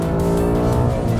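Ford Mustang GT PP2 from 2019 revving hard on a race track, its V8 producing a loud, steady, harmonic-rich engine roar recorded up close with no talk.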